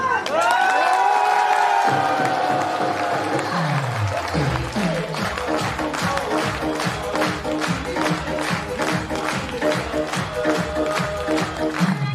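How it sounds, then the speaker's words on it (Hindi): A seminar audience at a lifestyle program in Bihar Sharif bursts into loud cheering, then settles into sustained rhythmic clapping that continues steadily throughout, with whoops and shouts mixed in near the start. "तो आज मौका पड़ा तो दिल खोल के एक बार ताली बजा ही दो"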